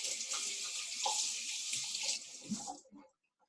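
Tap water pours steadily into a cooking pot in a home kitchen for about three seconds, a soft hissing splash that cuts off abruptly, followed by a brief clink.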